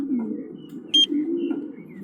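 Racing pigeons cooing in a loft, a close, soft, low warbling coo that runs steadily with one brief sharp call in the middle.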